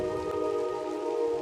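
Steady rain in the video game Drizzlepath, a soft, continuous patter under a faint tonal background hum, even and unbroken throughout.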